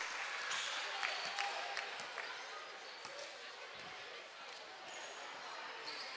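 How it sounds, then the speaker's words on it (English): At a men's college basketball game between UPIKE and Ohio U Eastern, a distant crowd claps and cheers in a busy wash, with ball bounces and squeaks scattered through it. "He even got a cheer and applaud out of the UPIKE cheering section that time"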